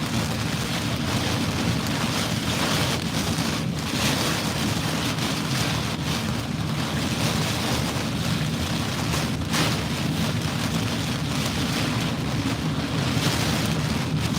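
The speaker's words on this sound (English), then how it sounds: "I know it's hard to hear because of the driving heavy rain." Driving heavy rain lashes down during Hurricane Francine in Louisiana, a dense, constant roar mixed with strong wind buffeting the microphone, loud and unbroken throughout with no voices.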